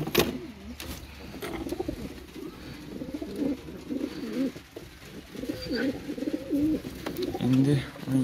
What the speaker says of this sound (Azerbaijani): İndi 17 dənə göyərçinimiz var.